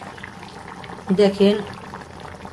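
A Bengali winter mixed-vegetable curry with ground shrimp simmers in a pot, giving off a soft, steady bubbling hiss. A voice speaks briefly over it midway.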